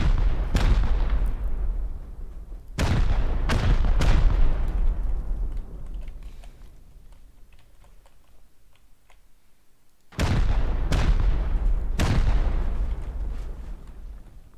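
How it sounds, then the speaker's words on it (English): Rockets fire in a video game in two clusters of loud, booming launches and blasts, each trailing into a long rumbling decay, with no talking over them. "the best option now would be to shoot 8 rockets in this corner right here"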